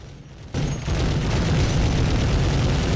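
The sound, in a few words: gunfire and explosion sound effects from the video game Medal of Honor (PlayStation)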